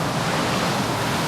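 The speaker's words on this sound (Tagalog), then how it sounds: "Lakas ng ulan." Heavy rain pouring down at a hotel in Boracay during a storm, a loud, continuous broadband hiss with no pauses or voices.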